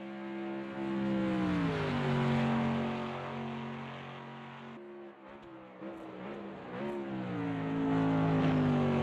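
A Mercedes race car in Automobilista 2 drives past up close with a loud engine, pitch rising through the gears, dropping on lifts and braking, then climbing again as it accelerates, with no voices over it.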